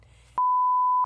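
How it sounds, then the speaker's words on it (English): A loud, steady censor bleep, a single pure tone held for about two-thirds of a second, cuts in sharply after a moment of low background murmur and stops abruptly. "Please beep that."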